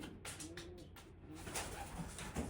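A paired couple of pigeons coo softly in a low, rolling murmur, a few gentle throaty calls close by against a faint background hiss, with no talking.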